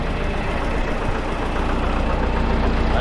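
A Case 188D diesel tractor engine, freshly rebuilt, runs steadily at a low rumbling idle, close and loud, with no speech.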